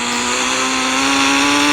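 A car in a video game drives with a steady, loud engine drone at a constant pitch, held without change through the moment and heard alone without speech.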